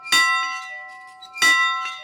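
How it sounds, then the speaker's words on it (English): A ranch meal bell rings out twice, each a loud, sharp clang with a long metallic ring, heard close with nothing else over it. "The bell still rings 3 times a day to signal breakfast, lunch, and dinner."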